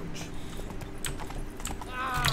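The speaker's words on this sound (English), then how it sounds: "The horse is supposed to just easily follow the road." The horse Roach's hooves clip-clop steadily along a road in the Witcher 3 video game, a quiet rhythmic plodding under low game ambience, with a brief chime near the end.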